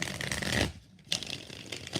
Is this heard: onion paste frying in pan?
no